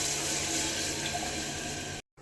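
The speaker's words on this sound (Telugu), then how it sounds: "ఈ గ్లాస్తో 2 గ్లాసెస్ వాటర్ వేసుకోవాలి" Water pours from a glass into a pressure cooker as a continuous close splashing rush that cuts off abruptly at the end.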